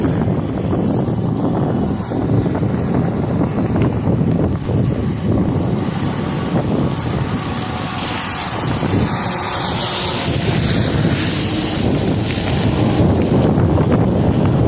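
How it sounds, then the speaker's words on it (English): Strong outdoor wind during a storm chase on a cold day in the lower 40s, roaring and buffeting the microphone in a loud, continuous rush that swells and eases throughout, with no one speaking. "It's a little breezy out here today."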